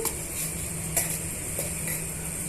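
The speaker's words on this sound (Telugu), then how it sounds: "మెంతులను కూడా యాడ్ చేసి వేసుకొని ఇవన్నీ బాగా వేగనిద్దామండి ఇవన్నీ బాగా వేయించుకోవాలి" Fenugreek seeds fry in a pan for an okra chutney, giving a steady, close sizzle with light stirring clicks and a few sharper taps, no voices.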